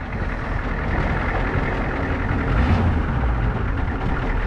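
An old Ford F-Super Duty pickup with a 7.3 IDI diesel engine runs close by: a steady, rough, low rumbling drone with a slight swell partway through and no voices.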